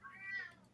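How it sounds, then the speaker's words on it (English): A pet cat gives one short, whiny meow, rising and then falling, faint and close, with no other sound. "it's my cat being whiny"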